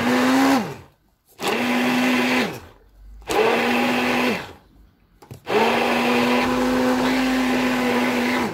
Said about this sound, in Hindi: इसको ब्लेंडर की मदद से या वाइटामिक्स की मदद से आप इसको ब्लेंड करेंगे।